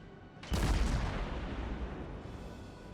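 Naval gun salvo from the heavy cruiser Atago firing at a destroyer in World of Warships, a single loud booming blast that rolls into a long, decaying rumble.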